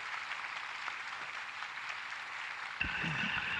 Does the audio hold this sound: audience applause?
yes